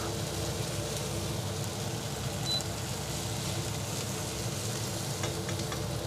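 Mushrooms frying in a pan for keto scrambled eggs, a steady close crackling sizzle that continues evenly throughout with no talk.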